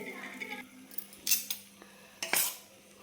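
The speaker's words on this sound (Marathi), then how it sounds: "तर चमच्याने आपण मिक्स करून घेऊ" A spoon scrapes and clinks against a metal pan while stirring wheat flour dough with hot oil, a few sharp close knocks over faint background hiss, without speech.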